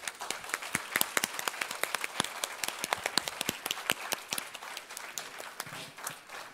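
A university event audience gives a modest round of applause, with individual claps distinct and irregular at close to moderate range, continuing steadily before thinning slightly toward the end.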